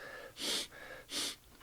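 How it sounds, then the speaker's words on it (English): Two quick, breathy nasal sniffs, about half a second apart, close and clear, with a faint steady background tone between them. "Let me get a bunch of sniffs out of the way"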